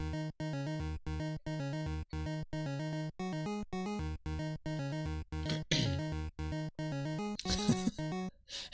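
Chiptune tones from the pulse and triangle channels of an 8-bit NES sound chip play a rapid, steady looping melody with bass notes beneath, briefly joined by bursts of noisy texture near the end.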